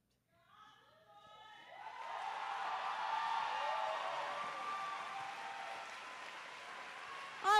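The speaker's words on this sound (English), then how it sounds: "One more big round of applause for Joyride right there." Crowd at a roller derby bout breaks into applause and cheering, swelling from scattered claps into a sustained roar of clapping, whoops and shouts in a large venue, heard after a brief spoken phrase.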